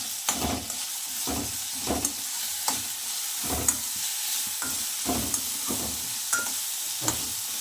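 Coriander seeds fry in a pan, giving a steady sizzle and hiss with repeated scraping strokes of a spoon stirring them at a quick, regular rhythm.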